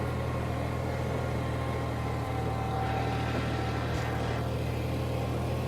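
Tractor engine running steadily after its carburetor was cleaned, a constant low droning hum at even loudness throughout, with no bogging and no voices.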